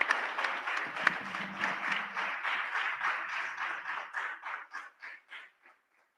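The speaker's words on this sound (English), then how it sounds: "Can we get a big round of applause for our DFW Mandir," Audience applause for the Ekta Mandir temple staff at a conference session, a dense burst of clapping that thins into scattered individual claps and fades out over several seconds.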